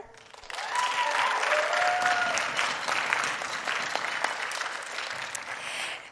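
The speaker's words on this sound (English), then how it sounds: "we can give them a round of applause" An audience applauds students at a senior night school concert, a steady wash of many hands clapping that swells in after a brief pause and holds fairly evenly at moderate loudness, with faint voices beneath.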